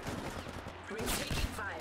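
Gunfire rattles in a mobile battle-royale shooter, Apex Legends Mobile, with a burst of several rapid shots heard up close amid game noise over a couple of seconds.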